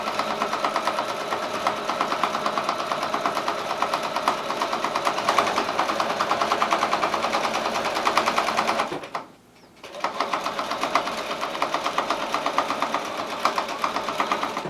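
Sewing machine stitching a quilt, a steady close mechanical whir running continuously, stopping briefly for a moment before resuming at the same pace.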